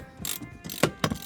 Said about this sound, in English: I'm going to use a 10mm deep socket